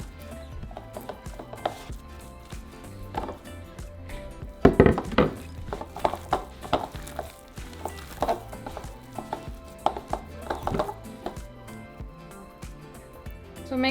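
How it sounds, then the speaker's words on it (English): Maseca dough being mixed by hand as red sauce is poured in, a series of soft irregular thuds and squelches with a few sharper knocks near the middle, over quiet background music. "we're going to start pouring and mixing our maseca together."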